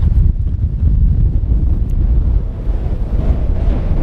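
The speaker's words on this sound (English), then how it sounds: "It's really windy up here." Strong wind buffeting the microphone with a heavy, continuous low rumble and gusty roar throughout.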